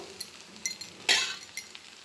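Dosa batter with sprouted mung beans cooking on a stovetop pan, a soft sizzle with a few scattered scraping taps and one brief louder scrape, close and quiet.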